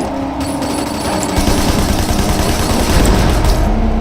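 Continuous loud gunfire in the video game Sleeping Dogs as shots are aimed at car wheels, a dense, rapid barrage with heavy low booms that builds slightly and carries on without pause.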